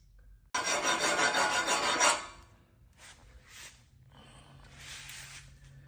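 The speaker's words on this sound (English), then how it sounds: "See the pin there is now filed down" A metal pin on a sewing table frame being filed down, one long loud rasping stroke followed by two fainter, shorter strokes close by, with no talk.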